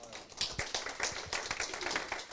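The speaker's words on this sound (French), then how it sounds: "mais je crois qu'on peut les applaudir" Audience at an architecture prize award ceremony applauding the jury members, a dense, steady spread of many hands clapping at moderate level throughout the short burst.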